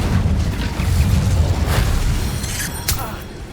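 Confringo fire spell explosions in Hogwarts Legacy: deep booming blasts with rumbling low end, a heavy burst near the start and sharper pops later, loud and close.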